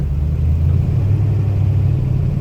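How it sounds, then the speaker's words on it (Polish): Engine of a 1942 Lincoln Continental while driving, a steady low rumble with a constant hum, heard close from inside the car with no talking. "Jadę samochodem z 42 roku. Jest to Lincoln Continental."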